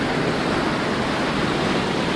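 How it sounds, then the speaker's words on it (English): A small mountain river rushes steadily as hikers cross it on a backcountry trail heading toward Wolverine Pass, a continuous broadband wash of flowing water, close and even, with no voices. "just a cute little river we're crossing."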